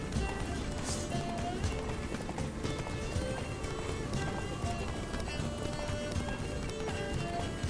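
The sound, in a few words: horse galloping in video game The Witcher 3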